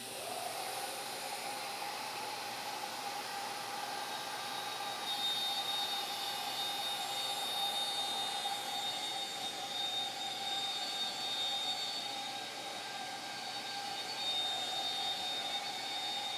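A Shaper Origin handheld CNC router cuts the profile of a wooden table lamp, giving a steady, loud, continuous high-pitched whine with a constant motor tone throughout and no talking.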